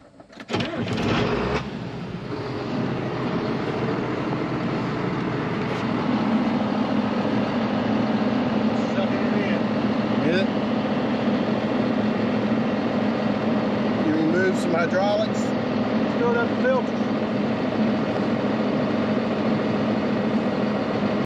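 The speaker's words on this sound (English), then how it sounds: "We just cranked the tractor, ran it for a bit." A John Deere 7800 tractor engine idles steadily with its three-point hitch lift arms raised, a close, continuous diesel drone with a faint whine, starting abruptly and holding level throughout.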